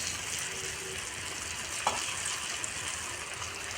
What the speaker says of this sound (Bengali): এলা আমি রিলসগুলো ভাজি নিই